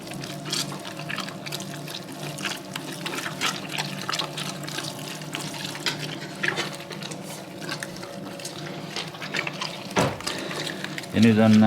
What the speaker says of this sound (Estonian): Lisan veel vett.